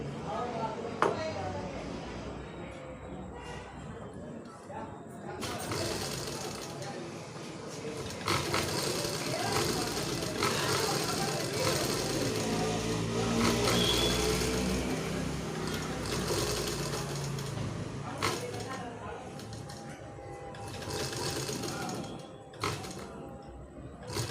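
A sewing machine stitches folded fabric during a tailoring class, its motor buzzing in stretches of varying length while someone talks over it, with handling knocks between runs.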